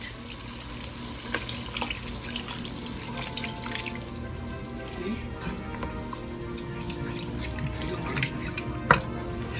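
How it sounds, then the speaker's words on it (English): Seafood stock pours steadily into a cooking pot for Cajun pasta with shrimp, chicken and sausage, a continuous close liquid splashing and trickling with small drips and clinks. "I have some seafood stock here. I'm going to add to my pot."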